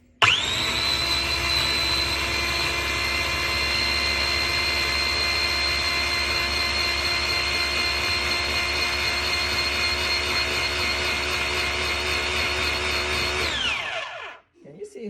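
A Philips Avent 2-in-1 baby food maker blends pear and banana into puree, a loud, steady high-pitched motor whine running for about fourteen seconds before cutting off abruptly.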